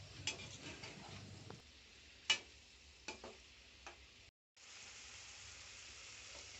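Tomatoes cooking in a pan on a high flame, a soft steady sizzle with occasional sharp ticks and stirring taps, faint and close, briefly cutting out near the middle.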